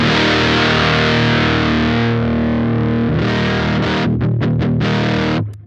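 Electric guitar runs through a Champion Leccy fuzz pedal with the treble rolled off, giving a thick, dark, sustained distorted chord followed by a few choppy stabs before cutting out.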